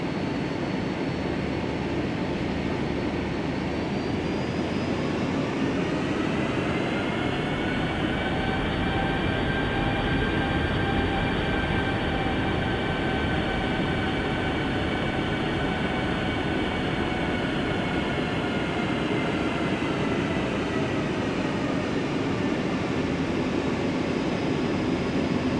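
An aircraft taxis in Microsoft Flight Simulator, giving a steady, loud engine whine and rumble. A turbine tone rises slightly and then holds, with no voices.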